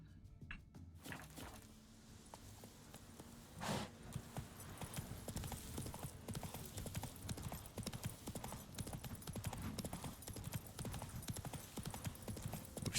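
Hooves of Roach, the horse in The Witcher 3: Wild Hunt, clip-clopping in a steady, continuous rhythm, fairly close, over a faint background bed of game ambience.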